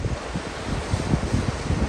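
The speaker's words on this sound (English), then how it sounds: "It's a little breezy and chilly, but it's still beautiful nonetheless. And the tide's coming in." Breezy, chilly wind gusts across the microphone at a seashore campsite in Cape Chignecto Provincial Park, Nova Scotia, over a steady wash of the incoming tide.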